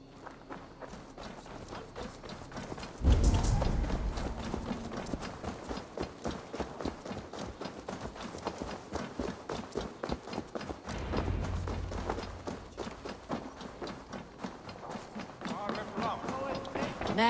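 A horse's hooves in Assassin's Creed Valhalla, a steady run of clip-clop footfalls that continues throughout, moderately loud, under speech and game background sound.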